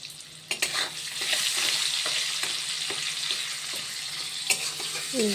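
Onions fry with sugar in a pan, giving a steady sizzling hiss broken by several sharp stirring knocks and scrapes of a utensil, close up with no talking.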